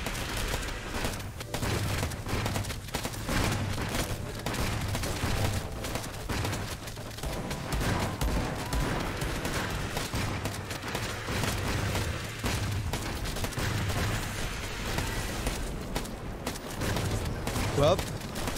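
Gunfire crackles through a LifeAfter video game fight, a steady stream of muffled shots and booms over a constant game soundscape, moderately loud and continuous, with a voice talking at times.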